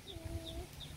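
A chick peeps in a few thin, high calls over a low background murmur near a chicken coop, faint and close.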